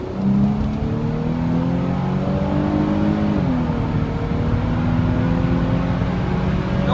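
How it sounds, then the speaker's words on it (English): An Infiniti G sports sedan engine with a deep exhaust rumble revs steadily and loudly, pitch climbing as it accelerates, then shifting and pulling on continuously. "that is a sick exhaust system"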